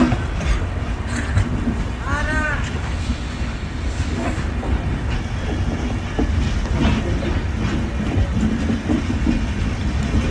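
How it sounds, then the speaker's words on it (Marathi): The KK Express train rumbles past nearby under a railway bridge near Solapur, a loud steady roar with rattling wheels and a brief tonal squeal early on. "दमणीनगरच्या रेल्वे ब्रिजच्या खालून जी रेल्वे वाहतूक सुरळीतपणे सुरू आहे"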